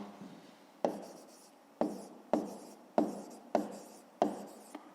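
Pen strokes on paper while working a fifth-grade maths exercise, with six crisp scratching marks arriving at irregular intervals, each a sharp start that trails off, close and fairly quiet.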